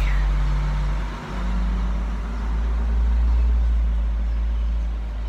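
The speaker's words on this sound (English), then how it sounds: "Garbage truck going by." A garbage truck rumbles past with a heavy, low engine drone that swells and eases over several seconds, loud and close, with no talking over it.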